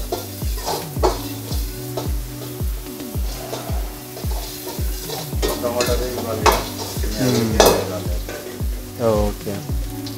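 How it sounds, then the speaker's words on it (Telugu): Browned onions and tomatoes fry in a pan for dhaba-style kadai paneer while a spoon scrapes through them in steady, rhythmic strokes over a constant loud sizzle, with no talking. "మంచిగా ఆనియన్స్ మట్టుకు బ్రౌన్ అయినాక మనం కొన్ని టమాటో వేసుకుంటున్నాం"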